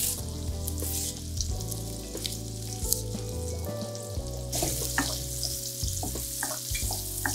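Whole spices (cinnamon, star anise, cardamom, cloves) and knotted pandan leaves fry in margarine in a pan, giving a steady close sizzle with soft stirring scrapes and no talking.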